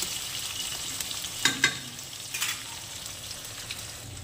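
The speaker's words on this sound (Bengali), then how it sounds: "পেঁয়াজগুলোও দিয়ে দিলাম। ভালো করে লাল লাল করে ভেজে নেব।" Onions frying in a pan with cumin and cardamom for a mutton fry, giving a faint steady sizzle with a few brief stirring clatters.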